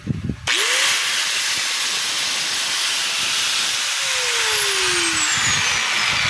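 A DeWalt DWE8100S 4-inch angle grinder switches on after a short clunk and spins up to a loud, steady high whine with broad hissing noise, holding at full speed throughout.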